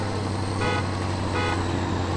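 A truck horn sounds in the SpinTires off-road driving game, two short tonal honks over a constant engine and road rumble.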